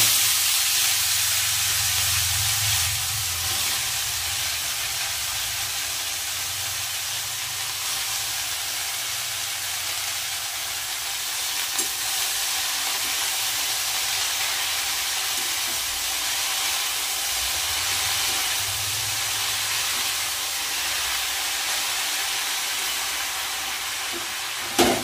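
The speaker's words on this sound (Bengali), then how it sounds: "এদিকে তো শাক ভাজা হচ্ছে" Red amaranth greens fry with onion in a wok, giving a steady, loud broadband sizzle and hiss that runs unbroken the whole time with no talking.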